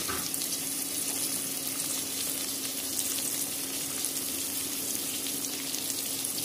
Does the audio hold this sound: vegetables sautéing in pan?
yes